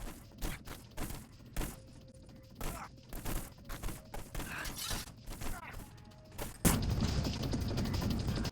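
Gunshots ring out in the stealth video game Hitman: Blood Money, a string of sharp irregular cracks over several seconds with mechanical clicks between them, followed by a denser burst of noise at the end.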